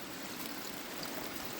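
A small forest stream flows steadily nearby, making a continuous even rushing and trickling wash with no pauses and no voices.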